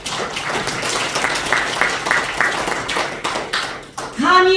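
Audience applause for retired generals at a veterans' association general meeting, dense clapping with a few sharp taps, loud and close, fading briefly before a voice starts at the end.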